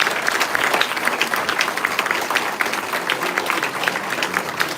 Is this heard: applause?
yes